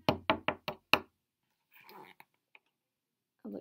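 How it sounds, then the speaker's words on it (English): Five quick, sharp knocks tap on a front door in a close, dry rhythm, followed by quiet pauses with a few faint rustles and a short bit of soft sound at the end. "Bear heard a tap, tap, tap, tapping on his front door."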